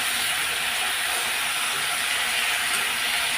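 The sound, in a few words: stirring and frying spinach with onion and chili paste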